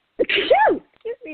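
A single loud, sharp sneeze bursts out close by, followed by a brief spoken apology.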